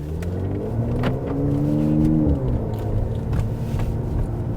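A new Mercedes SL55 AMG engine pulls hard through first gear, its low rumbling note climbing in pitch before easing off after the upshift into second, then droning steadily from inside the cabin.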